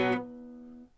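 A single muted guitar strum with the strings' tension eased off under the fretting hand, a short damped chord that fades within a second, alone.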